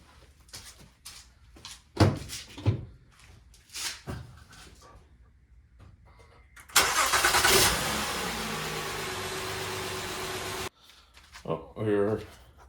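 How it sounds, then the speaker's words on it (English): Car engine cranking and catching after a battery replacement, a loud sustained run of several seconds in the middle, with people talking before and after. "we're going to test the car and make sure it starts before I put those last two pieces in"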